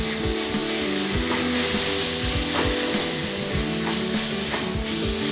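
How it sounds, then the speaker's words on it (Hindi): Grated watermelon peel frying in melted ghee, sizzling steadily and loudly up close while a spoon scrapes and stirs through it in repeated strokes, with no talking. "तो इसमें हमने जो कद्दूकस किया हुआ छिलका है वो डाल रहे हैं और इसे चला लेते हैं।"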